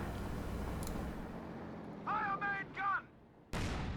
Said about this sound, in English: The Panzer IV, short-barreled Panzer IVs now fire projectiles in an arcing pattern rather than a straight line pattern